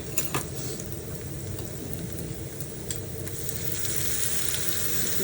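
Steady sizzling and frying of food in a pan on a home stove, a continuous close crackle with faint stirring clicks and no talk.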